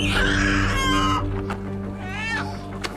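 A chicken lets out loud, close clucks and squawks, one long cry followed by a shorter call after a pause, over a steady low hum.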